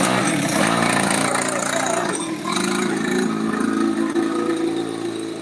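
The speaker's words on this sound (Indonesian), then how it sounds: "Naik motor tuh, pada naik motor kecil tuh." Small motorcycle engine running steadily at a street event with costumed performers, a continuous droning hum with a fairly even pitch over several seconds, sitting under a busy outdoor background.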